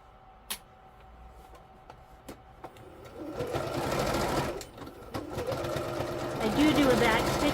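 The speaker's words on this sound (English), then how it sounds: "I'm just going to start here and sew it down." A sewing machine stitches down a kilt waistband, starting after a few clicks and taps, then running in a fast, steady whir close by, with a voice talking faintly nearby.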